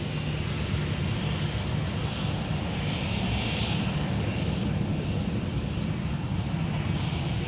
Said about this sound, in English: Kind of rare to see a wide body take off over there